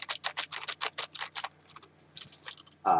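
A mechanical keyboard with blue switches clicking, rapid close bursts of sharp individual keystrokes, a short pause, then another quick run of clicks.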